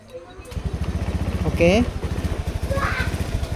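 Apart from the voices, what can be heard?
motorcycle engine restarted with starter, sputtering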